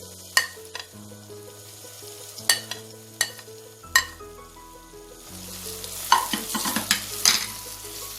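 Tomato tipped into a pan of frying chicken for a chicken varattiyathu, with steady sizzling and repeated sharp scrapes and knocks of a spoon stirring against the pan, close up and without talk.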